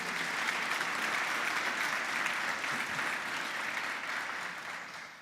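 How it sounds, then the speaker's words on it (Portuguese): A church congregation breaks into dense, steady applause during a communion service, loud and continuous before tapering off slightly at the end. "Se você crê, dê um aplauso à palavra do Senhor."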